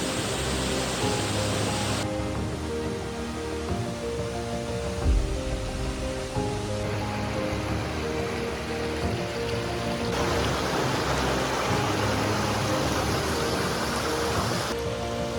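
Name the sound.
light rain drizzling near a waterfall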